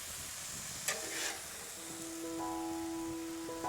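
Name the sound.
steak cooking on a Blackstone griddle for Philly cheesesteak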